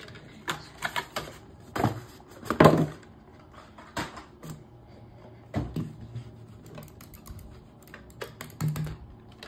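Computer keyboard being typed on in bursts of close clicking keystrokes separated by short pauses, with a few heavier thuds among them.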